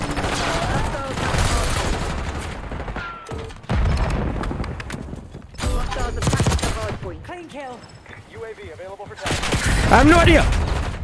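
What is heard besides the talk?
gunfire in video game Black Ops 6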